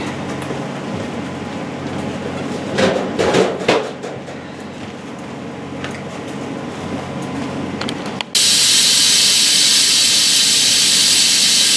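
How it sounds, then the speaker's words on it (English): Steam is let off a pot of cooking pinto beans with a sudden, loud, continuous hiss that starts partway through and keeps going steadily to the end. Quieter kitchen handling sounds come before it. "I'm letting the steam off of my pinto beans"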